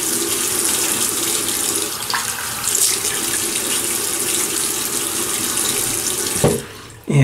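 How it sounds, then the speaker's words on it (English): Steady tap water runs into a sink for several seconds before a shave, close and even, then cuts off near the end with a brief clatter. "so let me just wet the face"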